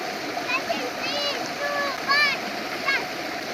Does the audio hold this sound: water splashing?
yes